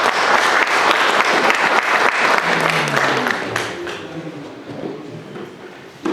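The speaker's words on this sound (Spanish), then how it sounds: "Un aplauso para todos ellos." Dense, sustained audience applause at a civic forum gathering, loud and continuous at first, then thinning and fading toward the end without any talk.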